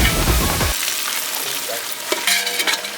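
Tomatoes fry in a pan over a campfire, a close crackling sizzle with stirring scrapes and a few clinks, steady throughout.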